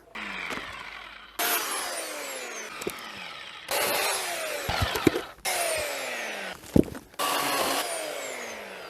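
A budget EPL 2200 electric chainsaw cuts through wood in repeated bursts, each a loud buzzing whine that rises as the blade bites in, with short quiet gaps between cuts.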